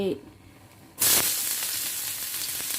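Ginger drops into hot oil in a pan: after a quiet second comes an abrupt, loud sizzle that keeps crackling steadily up close.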